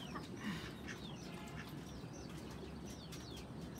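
Egg-laying farm ducks give faint, scattered quacks and short calls over a low outdoor rumble, distant and intermittent throughout.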